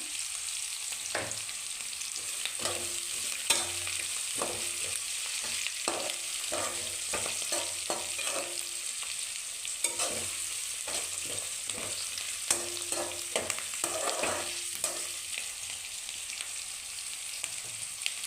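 Onions with crushed ginger and garlic frying in a pan for lemon chitranna, a steady bright sizzle with bursts of rapid spatula scraping and tapping.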